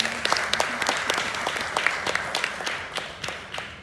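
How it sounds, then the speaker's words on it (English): An industry audience at a content marketing day in Nigeria gives steady, moderately loud applause, with individual sharp claps standing out against a continuous wash of clapping. "I think you need to give yourself a rousing applause."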